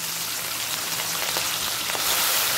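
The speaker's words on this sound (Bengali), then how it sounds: "দু পিঠি ভালো করে ভেজে ফিরে আসবো" Fish pieces fry in hot mustard oil in a wok, giving a dense, steady sizzle with scattered crackles and pops, loud and close with no voices.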